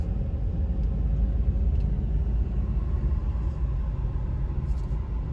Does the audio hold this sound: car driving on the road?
yes